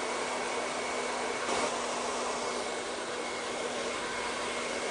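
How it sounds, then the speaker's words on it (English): Handheld hairdryer blowing steadily during blow-dry styling with a round brush, a continuous close whooshing roar with a faint steady hum and a slight bump midway. "I'm just going to use some cold air from my hairdryer"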